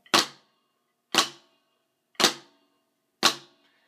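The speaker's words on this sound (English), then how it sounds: "A flam is essentially two notes played to sound like one note" Four drum flams, each a soft grace stroke landing just before the main stroke so the pair sounds as one thick note. The hits are evenly spaced about a second apart, sharp and close, with quick decays and silence between.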